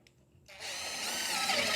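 A power drill drives self-drilling sheet metal screws into a metal gutter, starting with a brief tap and then a steady, loud, close whirring grind that builds as the screw bites.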